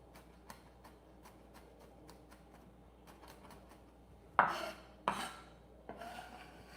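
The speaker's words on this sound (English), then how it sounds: "Do one more chop." Knife chopping garlic on a board: a run of quick, light, evenly spaced taps, then three louder, heavier chops near the end.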